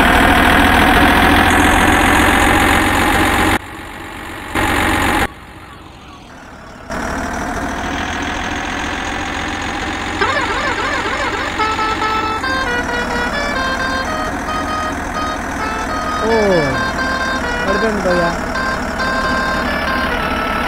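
A cargo truck engine idles and runs steadily in the Indian Truck Cargo Transport mobile game, a continuous mid-pitched drone that shifts after a brief dropout, with tonal game sounds and rising whines layered over it.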